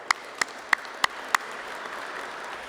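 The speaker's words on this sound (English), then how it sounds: "let's give them a round of applause" Loyalty Day ceremony crowd clapping: five sharp, evenly spaced claps stand out over a soft, diffuse background of scattered applause, fairly quiet overall.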